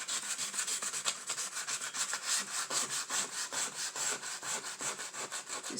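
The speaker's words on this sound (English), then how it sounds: "Trying to sand this down where I put too much, but it seems to look okay." Sandpaper from a dollar store rubbed back and forth over a charger plate, a steady rhythmic scratching with even strokes, close and fairly loud, no talking.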